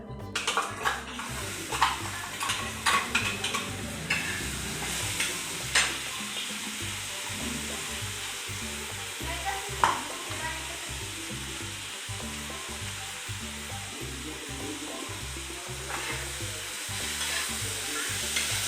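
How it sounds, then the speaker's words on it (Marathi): Prepared gravy goes into a pan for a tawa egg fry, and a continuous sizzle follows with repeated clinks and scrapes of a spoon stirring, loudest in the first few seconds, then settling into a steady simmer. "आता जी आपण ग्रेव्ही तयार केली होती ती आपण आता टाकूया"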